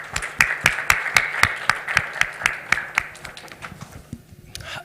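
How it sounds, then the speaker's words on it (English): A presenting team receives a round of applause, heard as a steady, evenly paced run of close claps that thins and fades toward the end. "Round of applause for the Open Passport team"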